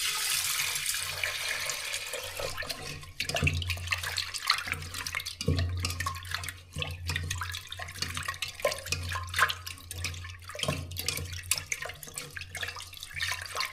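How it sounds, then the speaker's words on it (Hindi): Something is rinsed quickly under a running kitchen tap while cooking dal, with steady flowing water, intermittent splashes and drips against a sink, and a low hum in the background. "अब इसको धो लेता हूँ फटाफट से।"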